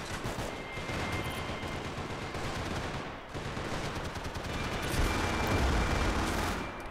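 Rapid, loud bursts of gunfire from a weapon in the video game Max Payne 3 multiplayer fill the clip, with a brief pause near the middle before sustained shooting resumes, heavier toward the end.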